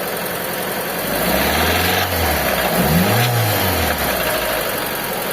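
A Mitsubishi Lancer with a 4G15 engine revs up and down, a steady mid-pitched drone swelling in two rising and falling sweeps, heard close and loud with no talking; the knock itself is not distinct.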